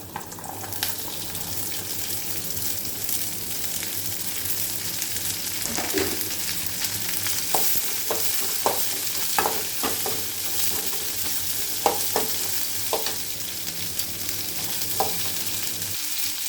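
Steady sizzling of chopped broad beans frying in a pan with coriander for a poriyal, with scattered scraping and clinking as they are stirred, no voices.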